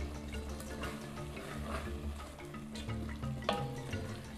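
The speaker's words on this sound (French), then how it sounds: "On mélange encore un petit peu." A spoon stirs kitchari, a soft rice-and-lentil dish, in a pot, giving a steady wet scraping and gentle bubbling with faint clinks, close and alone without speech.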